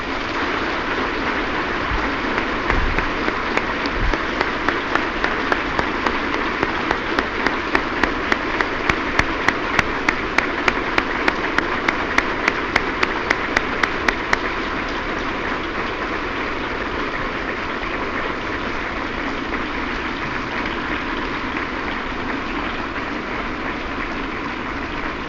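A large audience at UCLA applauds after a 1966 lecture, a sustained wash of clapping with a crisp rhythmic patch of hand claps in the middle. It then settles into a steady, distant roar.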